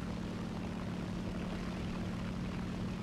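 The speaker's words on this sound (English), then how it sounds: "Oh, they got two planes coming in" Propeller aircraft in War Thunder drone steadily overhead as two planes close in on a tank battlefield, a continuous engine roar with no voices.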